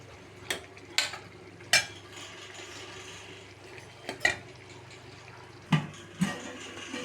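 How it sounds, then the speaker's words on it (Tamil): A spoon stirs egg thokku in a pan, giving scattered metallic scrapes and clinks at irregular intervals over a low, steady background hum. "ஒரு கிளறி விட்டுக்கலாம்"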